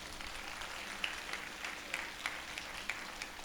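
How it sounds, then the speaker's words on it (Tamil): A congregation applauds during a Christmas midnight Mass at a Chennai shrine. The clapping is faint and distant, a light patter with a few sharper claps standing out across the few seconds. "கைதட்டுங்க"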